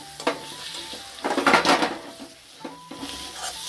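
Potatoes go into a pan of frying spices for a rohu fish curry: a clatter of pan and utensils, a brief surge of sizzling in the middle, then quieter stirring clinks.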